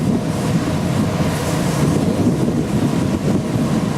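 Wind buffets a ship's deck at sea, a loud, steady roar with low rumble and gusty noise throughout, no voices.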